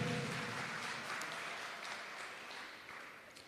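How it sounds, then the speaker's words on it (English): A ceremony audience honouring students applauds, the clapping strongest at the start and slowly thinning toward the end, with no talking over it. "I'm going to ask you to give her a round of applause"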